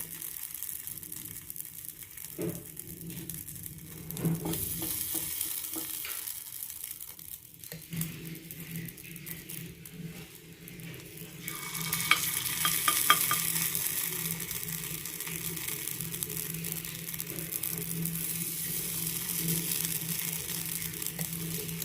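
Appe batter goes into a hot appe pan and sizzles softly, a faint frying crackle at first that grows into a steadier, louder sizzle partway through, with no talking.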